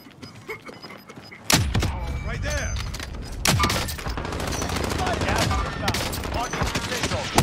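Gunfire rips through a multiplayer shooter video game in loud bursts, one sharp volley cracking in, then a second heavy burst followed by steady rapid firing and impacts that keep going to the end.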